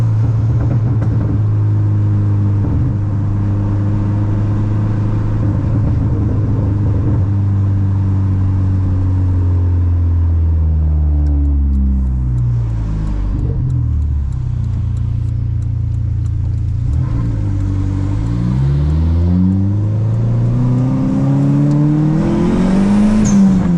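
A Dodge SRT-4 car accelerates hard uphill, its engine loud and close, with a rising revving tone that drops back at each gear shift and then climbs again.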